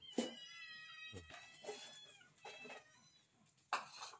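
Several cats meow in short, separate calls, some drawn out and wavering, fairly faint and close, with quiet pauses between them.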